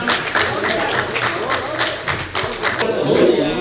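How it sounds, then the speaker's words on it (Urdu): An audience at a felicitation ceremony for academic scholars claps loudly in bursts of uneven slaps and taps, a close, irregular round of applause with no voices. "زوردار تالیاں"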